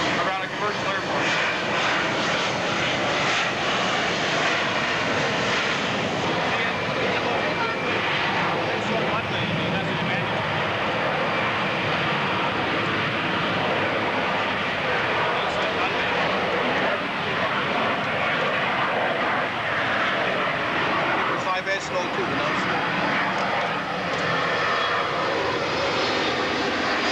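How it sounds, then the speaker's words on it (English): A Teledyne light aircraft engine powering up at the 1988 San Diego airshow, a steady broadband engine roar running throughout with a narrator talking over it. "Bringing the power up now on the Teledyne light going engine."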